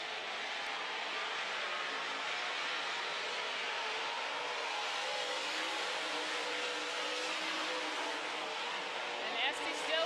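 Modified race cars roar past on the Amsoil Speedway oval during a feature race, a continuous loud engine drone from the pack that holds steady, with a brief swell at the end.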